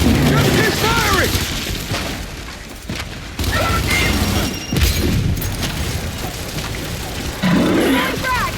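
Gunfire and explosions rage through a chaotic battle, with loud booms, bursts and a continuous roar of combat. Shouted voices cut in and out over the din.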